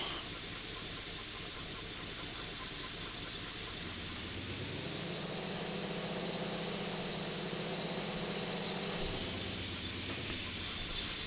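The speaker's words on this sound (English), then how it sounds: "I really want to turn up the sound so I can hear the engine a little bit." A truck engine in the off-road driving game Mudrunner drones steadily under broad hissing noise, its low rumble swelling in the middle before easing off, with no speech.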